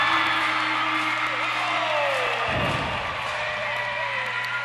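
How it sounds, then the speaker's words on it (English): Arena crowd at a college men's basketball game roaring and cheering after a dunk, a sustained dense wall of crowd noise that swells briefly midway, with a commentator talking over it. "And that gets the Alumni Arena crowd excited as the lead is back out to 9."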